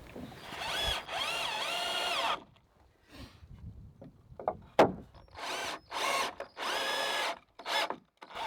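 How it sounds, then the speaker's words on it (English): A power drill bores holes into wooden parts for a rotten porch being rebuilt, whirring in several sustained bursts with short pauses and small clicks and knocks between them, close and loud. "First I make some bore holes in two of these."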